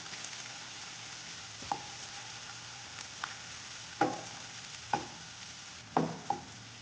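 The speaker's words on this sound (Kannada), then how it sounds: "ಈರುಳ್ಳಿ ಫ್ರೈ ಆಗಿದೆ." Onions fry in a pan with a steady low sizzle, broken by several sharp scraping knocks of a spoon stirring them, close and moderately quiet.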